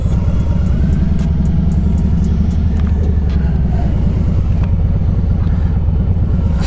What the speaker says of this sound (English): We can park right on this corner right here.